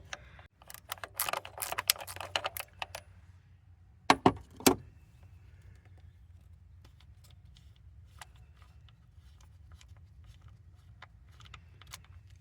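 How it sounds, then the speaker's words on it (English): Socket wrench working a PCV valve loose on a 2017 Kia Forte: a burst of quick ratcheting clicks, then a few sharp metallic clacks, followed by sparse light ticks over a quiet background hum. "I cannot, so I'll go ahead and put the socket on it."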